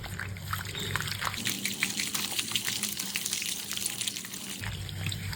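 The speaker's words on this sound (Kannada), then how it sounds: "ಸ್ವಲ್ಪ ನೀರು ಹಾಕೋಣ." Water is poured into a bowl of baking soda, powdered sugar and unsalted butter for badusha dough, a steady trickling splash running close by throughout with no talk.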